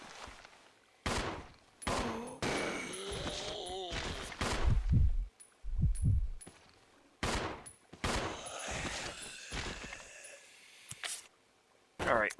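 Gunfire in the 2016 remaster of the video game Resident Evil 0: loud, sharp shots spaced irregularly across the stretch, several echoing bangs separated by quieter gaps, with a voice talking in between.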